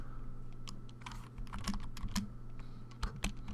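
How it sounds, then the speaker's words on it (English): Code being typed on a computer keyboard, quiet close key clicks in quick irregular bursts over a low steady hum, with no one speaking. "all we have to do is type out A plus B"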